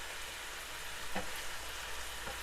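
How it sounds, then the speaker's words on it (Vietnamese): Beef shank tendon marinated and stir-fried with garlic and lemongrass gives off a steady, dense sizzle from the hot pan, with faint stirring clinks, and no talking. "giờ mình xào với tỏi với sả nó rất là thơm cả nhà"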